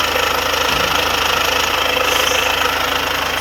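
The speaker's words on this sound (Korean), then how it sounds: "근데 지금 차량 엔진 소리도 너무나도 좋고요" A fourth-generation Kia Carnival engine runs at idle, heard up close as a steady, even mechanical hum with a fine rhythmic ticking underneath, constant throughout with no voices.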